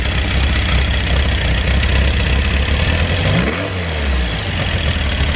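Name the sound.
engine running with CB Performance crank sensor setup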